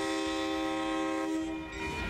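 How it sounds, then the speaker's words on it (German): A train passes at close range on an American railway line, with a loud, steady rumble and sustained tonal ringing from the wheels and cars. The sound dips briefly near the end, and no voices are heard. "Und dann kommt der Zug."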